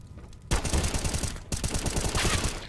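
Rapid automatic gunfire from Counter-Strike: Global Offensive during a competitive esports match, loud bursts that pause briefly and then resume as sustained fire.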